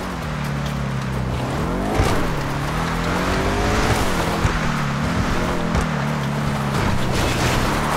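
Chevrolet Camaro driving in GTA Online, a steady engine drone that rises and falls through gear changes around the second and fourth marks, continuous and fairly loud with road noise and no talk.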